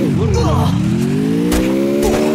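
A car driving in the video game Free Fire, its engine rising in pitch as it accelerates, with tire and impact noises and excited talk over it.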